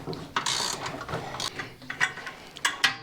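A hand ratchet clicks in quick pawl bursts while three bolts come off a DR 675 trimmer. The loud, close ratcheting is repeated in uneven spurts with short pauses and no speech.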